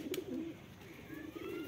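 Soft pigeon cooing rises and falls in a short, gentle burst, close by, with a faint rustle in the background.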